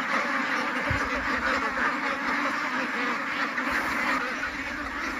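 Several ducks, about 45 days old and raised as eco-farm birds, quack and honk repeatedly while feeding on scattered corn outdoors, the calls overlapping at close to middle distance amid a busy, continuous background.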